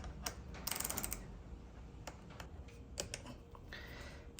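A number 10 tool works loose the battery terminal bolt on a motorcycle, giving faint, close clicks and small metallic ratcheting taps, scattered and irregular against a quiet background.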